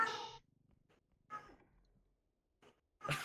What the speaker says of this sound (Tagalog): Pusa ko yun, pusa ko.